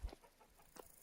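Chickens cluck in the survival video game Vintage Story, a few short, soft clucks spaced across a brief moment with no talk over them.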